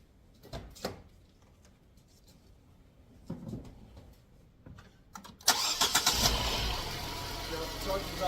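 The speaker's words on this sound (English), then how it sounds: "So we're going to start the car." A car engine starts after a jump start from a portable jump starter, cranking briefly and catching into a loud, steady idle, preceded by a few clicks and faint handling sounds.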